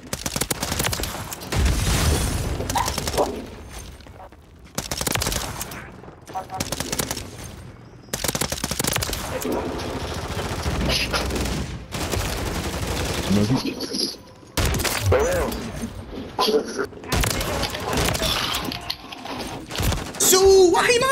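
Bursts of COR 45 gunfire in a video game, a fast automatic rattle fired in repeated strings of shots separated by short pauses, with mechanical reload clicks, loud and up close throughout.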